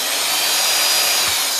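A power drill runs continuously while driving a screw into a damaged popcorn ceiling, a loud steady whirring drone close to the listener with no speech.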